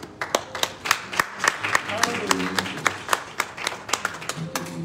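A church congregation claps along in a steady, fairly quick rhythm, sharp hand claps repeating across the clip while singing or chanted voices carry underneath.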